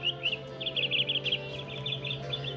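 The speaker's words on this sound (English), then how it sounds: "Little bird, I have heard you sing so sweetly." Small bird chirps in quick, bright bursts over a steady low hum, fairly faint and slightly distant.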